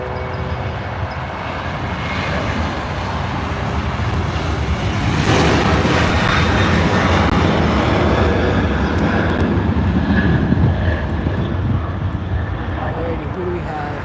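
A jet airliner on arrival at an airport roars steadily and loudly with broad engine and wind rumble that swells around the midpoint and holds, while people talk over it.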